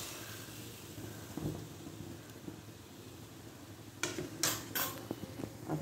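Poha is stirred in a pan with milk and spices, giving soft scraping and occasional metallic clinks of a spoon against the pan over a low background hum. The contacts come quiet and intermittent, with a few sharper knocks near the end.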